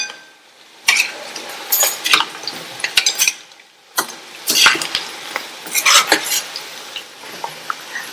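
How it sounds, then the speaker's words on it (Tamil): Varuval tossed and stir-fried in oil in a pan on medium heat, bursts of sizzling and scraping with metallic ladle taps, loud and close, separated by brief quieter gaps. "மீடியம் ஹீட்லயே வச்சு நல்லா இந்த மாதிரி பிரட்டி பிரட்டி விட்டுருங்க."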